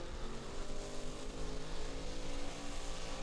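A supercharged drag race car running an 8-71 blower at the Midwest Summer Nationals roars steadily and loudly throughout, a dense sustained engine drone with no pauses.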